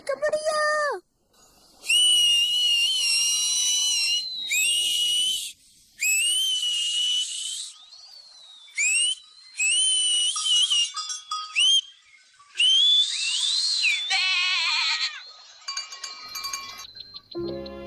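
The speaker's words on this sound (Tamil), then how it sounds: "என்னால சவுண்டா விசில் அடிக்க முடியும்." A young girl in the Swiss Alps whistles loudly in a series of shrill, sustained blasts with brief gaps between them, some notes sliding in pitch, close and piercing.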